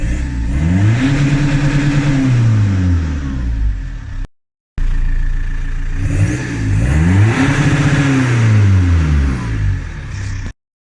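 A turbocharged project car on low boost revs hard twice, with rising and falling engine pitch sweeping up and down in loud, close bursts separated by a brief silence.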